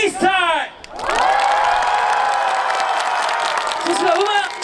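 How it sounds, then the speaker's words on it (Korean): A large crowd at an outdoor Miryang Citizens' Day freestyle dance show roars with loud, sustained cheering and shouting. A brief amplified voice comes just before the roar swells, and the cheering holds steady to the end. "우리 밀양 전체가 떠나갈 정도로 큰 함성을 부탁드려보겠습니다"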